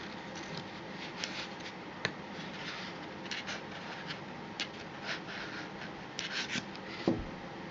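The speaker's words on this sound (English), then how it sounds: "So we cut through the skin here." A knife or scissors slices the skin of a chicken wing, giving faint, quiet scratchy rubbing with a few soft sharp ticks scattered through a close, muffled background.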